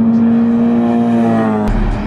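A car engine roars loudly and close by during late-night street racing, holding a steady high drone before the pitch drops abruptly as it shifts or passes.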